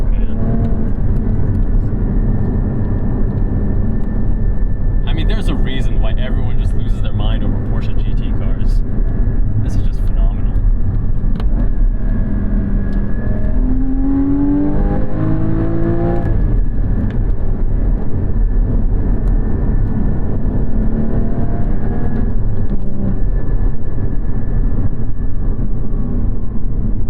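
A Porsche 981 Cayman GT4 engine drones with its exhaust valve closed, a steady loud cabin hum with rising and falling revs, heard from inside the car under a driver talking.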